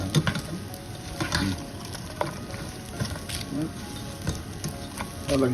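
Lechon paksiw, pork with bay leaves and salt, sautés in a pan, giving a steady sizzle broken by scraping, clattering stirring strokes at irregular intervals, close and moderately loud.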